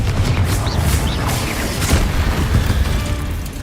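Confringo spell blast in Hogwarts Legacy, a loud booming explosion with crackling bursts and rumbling debris continuing for several seconds, no voices.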